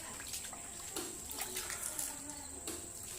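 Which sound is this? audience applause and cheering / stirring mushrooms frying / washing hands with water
washing hands with water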